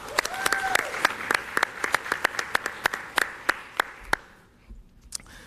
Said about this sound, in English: let's give a big round of applause to the Eastlake High School students